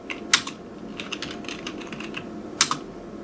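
Typing on a computer keyboard, an irregular series of light key clicks with a few sharper taps, close and clear, with no talking.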